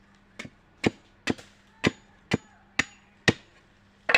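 Pieces for a banana tree decoration are cut with about eight sharp, evenly spaced chops, each crisp and close with a short decay, alone without any talking.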